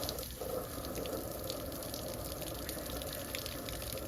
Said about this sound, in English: All right, outdoor shower, hot water.